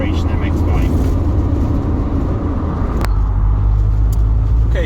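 A 1993 Mazda MX5 Eunos, a first-generation sports car, drives along with a steady loud engine and road rumble throughout, while someone talks over it.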